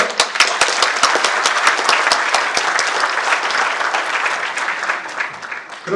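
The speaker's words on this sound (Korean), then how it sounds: "박수 한번 쳐주시죠" An audience at an association election speech applauds, with dense, sustained clapping close by and loud, continuing for several seconds with a slight thinning toward the end.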